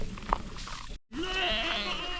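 Spanish goats in hot brushland bleat nearby, one short call and then a longer wavering bleat after a brief gap, fairly loud over faint background.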